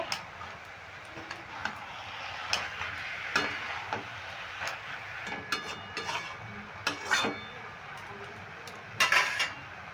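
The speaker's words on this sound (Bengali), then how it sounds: "সামনে পালং শাকটা দিয়েও ভালো করে নেড়ে নেব" Spinach and khesari greens stirred in a pan, a spatula tapping and clinking against the metal in irregular light strikes, close and fairly clear, with a quiet sizzle underneath.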